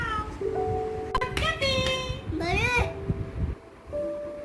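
A voice imitates a cat, giving two drawn-out meows with rising and falling pitch, fairly close, with a quieter hum beneath.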